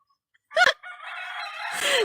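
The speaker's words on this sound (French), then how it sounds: "c'est le plus gros coq et c'est le plus faible cocorico" A large rooster gives a feeble, strained crow, one short squawk followed by a thin, wavering drawn-out call close by, rising a little at the end, with no talking over it.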